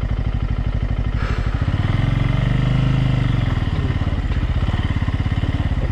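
A Bajaj Pulsar N250 motorcycle being ridden, its engine thrumming in a close, loud, rapid pulse that swells briefly as the throttle opens, then settles back, with no talk.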